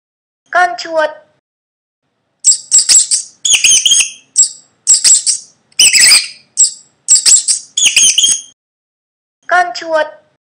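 A series of high, shrill mouse squeaks in short repeated bursts, loud and close, set between brief spoken words at the beginning and end.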